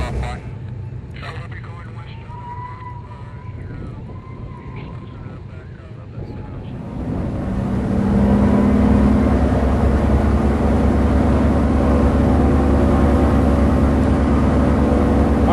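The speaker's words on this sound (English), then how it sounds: "Are they running up each individual engine?" A large piston-engine aircraft, the B-29 "Fifi," runs up its engines one at a time at Salina, Kansas, with a steady roar swelling partway through and holding loud to the end, under people talking.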